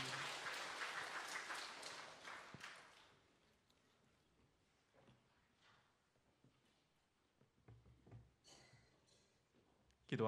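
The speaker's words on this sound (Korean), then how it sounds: "찬양받을 하나님 앞에 박수로 영광 올려드립니다." A church congregation claps in a burst of applause that fades out after a few seconds, followed by quiet room sounds and faint movement, all very soft.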